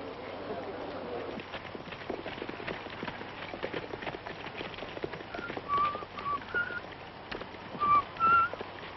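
Racehorses thunder past at a track, their hoofbeats forming a rolling clatter under a busy, murmuring grandstand, with a few sharp whistles cutting in near the end.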